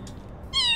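A cat meows once in the video game Little Kitty, Big City, a short clear mew rising near the end after a quiet background hum.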